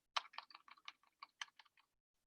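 Buttons pressed on a calculator while numbers are entered, about a dozen quick clicky taps in an uneven rhythm, close and fairly quiet, with no talking.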